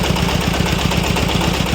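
Turbocharged tractor engine running steadily while ploughing a field, a loud, close, rough mechanical drone with a fast even pulse.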